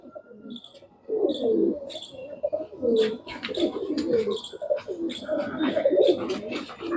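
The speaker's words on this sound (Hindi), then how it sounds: "लाजवाब और बेमिसाल किस्म के कबूतर" Pigeons in Jaipur coo repeatedly up close, soft throaty rolling calls overlapping one another, with small chirps and rustling in the background.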